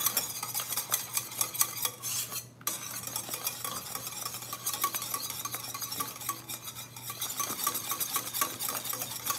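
Pastry cream is whisked in a stainless steel pot, producing rapid rhythmic metallic scraping and clicking that runs steadily, with one brief pause.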